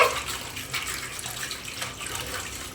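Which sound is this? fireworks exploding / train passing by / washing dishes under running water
washing dishes under running water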